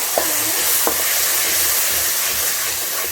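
Ground coconut paste frying in a pan for thikkadi, a loud, continuous close sizzle with a few sharp scrapes of a spoon stirring, no voices.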